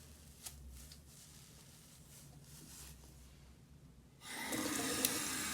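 Makeup sponges rinsed under running water, with a quiet rustle at first, then a steady louder gush of tap water starting near the end.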